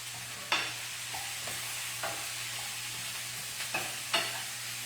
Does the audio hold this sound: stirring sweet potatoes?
yes